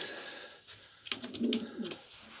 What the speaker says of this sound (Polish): to są gołębie rasowe, polski pocztowy wystawowy